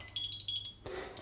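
A high electronic timer alarm tone from an Electrolux induction hob beeps steadily for a moment, then cuts off, followed by a soft clunk and faint room noise.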